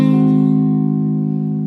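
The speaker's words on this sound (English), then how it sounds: "the next chord is going to be an inversion chord" A single sustained guitar inversion chord rings out loudly and slowly decays, with no voices.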